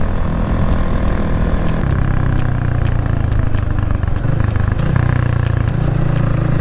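Rusi Classic 250 motorcycle riding over rough off-road ground, its engine droning loudly and steadily at close range with small rattles and bumps throughout, no talking.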